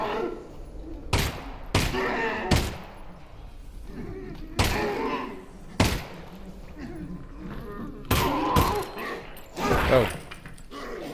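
Gunshots in the virtual reality shooter Half-Life: Alyx, set in a quarantine zone: a series of sharp, loud reports spaced a second or so apart, several in quick pairs, with a player talking between them.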